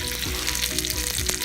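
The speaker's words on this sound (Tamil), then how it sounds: "புதினா நல்லா வதங்கட்டும்." Mint leaves sauté in a hot pan for tomato mint chutney, giving a steady, close frying sizzle with faint stirring and no voices.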